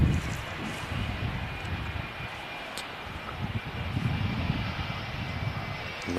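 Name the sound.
airliner slowing down on runway after landing, Manchester Airport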